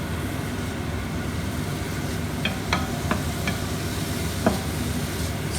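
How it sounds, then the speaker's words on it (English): Onions frying in a pan for a chicken dish, a steady soft sizzle with a few light clicks of stirring utensils, heard alone at low volume. "So we have to fry this till the onions turns into brown."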